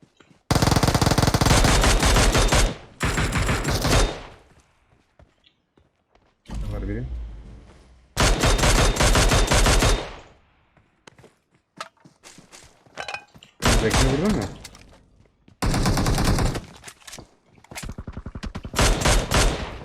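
Bursts of automatic gunfire in PUBG Mobile, loud and close, coming in several long rapid volleys separated by short gaps. Excited voices talk between the bursts.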